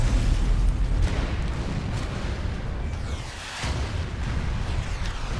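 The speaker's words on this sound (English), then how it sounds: "Rockets scream out of their succession and explosions erupt along the length of the road, turning the IFVs into burning wrecks." Rocket explosions roll along a road in GFL2 Exilium, destroying IFVs in a continuous, heavy barrage of booming blasts that fills the whole stretch without a break.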